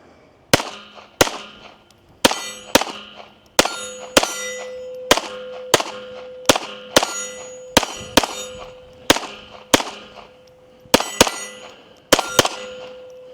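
Retay RXP22 semi-automatic .22LR rifle firing eighteen rounds of CCI Blazer in a steady string of sharp, ringing cracks, each shot distinct and close with a short metallic ring-out, no talking.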